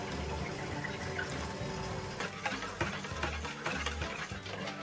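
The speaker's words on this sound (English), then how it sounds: "cold water first into your gelatin" Cold water pours and splashes from close by onto gelatin in a container, a steady liquid rush with small trickling and bubbling bursts throughout, alone and moderately quiet.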